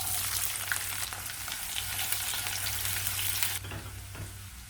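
Onions fry in sesame oil in a kadai after fennel seeds are added, giving a loud, steady close-up sizzle that cuts off abruptly near the end, leaving a quieter hiss.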